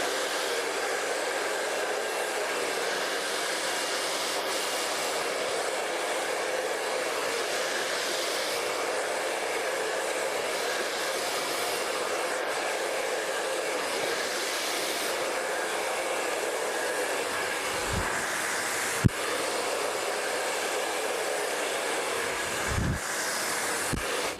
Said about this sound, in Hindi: तो पहले मैं यहाँ पे ड्रायर कर लेता हूँ।